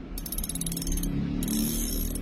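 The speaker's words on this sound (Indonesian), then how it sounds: "nah ini suara clicker ini yang saya senang sekali" An OXGN Demon fishing reel's clicker ratchets in rapid bursts, a crisp metallic buzzing that pauses briefly then resumes, close and clear.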